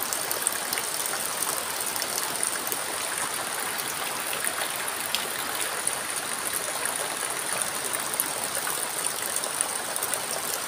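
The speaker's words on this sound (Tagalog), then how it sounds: "Tubig namin apaw-apaw." Overflowing floodwater during Typhoon Kristine's heavy rain rushes in a steady, unbroken wash of noise, like a strong stream pouring continuously, with no voices.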